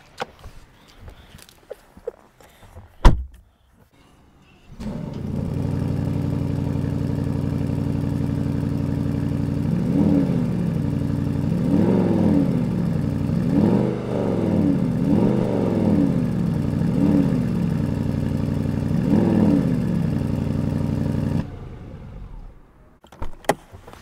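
A Porsche Cayenne Turbo S E-Hybrid Coupé with 680 PS and sport exhaust starts up after a few clicks, settles into a deep steady idle, then gets several quick throttle blips, and shuts off near the end.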